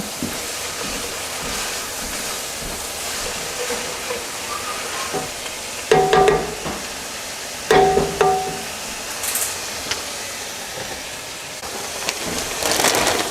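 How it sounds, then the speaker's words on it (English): Onions fry in a hot pan as they are stirred, giving a steady hiss and crackle with a couple of louder scraping bursts from the spoon. "So we're going to fry them around till they get translucent."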